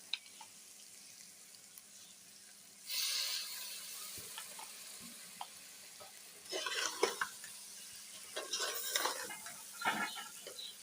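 Spices and red chilies frying in a pan with a little water, giving soft sizzling with bursts of louder crackle and stirring, plus occasional clinks of a utensil against the pan.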